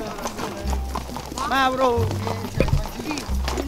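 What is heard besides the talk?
horses walking, hooves clip-clopping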